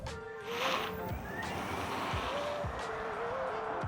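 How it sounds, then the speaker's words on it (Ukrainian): A BYD Tang electric SUV accelerating hard from 0 to 100 km/h in sport mode, heard from inside as a rising electric motor whine over steady road and tire roar, with a voice briefly under it. "зараз ми знімемо розгін від 0 до 100 в спорт режимі"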